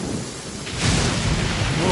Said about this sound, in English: Yeah, this thunder is loud.